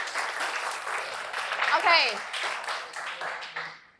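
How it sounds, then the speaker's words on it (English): Applause from students in an English class after a lesson exercise, a moderate burst of clapping under a teacher's brief spoken word, fading out toward the end. "A big applause to all of you"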